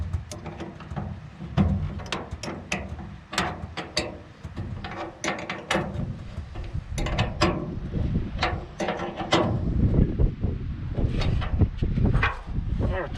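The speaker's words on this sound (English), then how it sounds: "Let's tighten this one up where we can hold it a little bit." A wrench tightens a fitting on used equipment meant to keep water out, producing close, repeated ratcheting clicks in quick bursts with faint mechanical clatter, while someone talks over it.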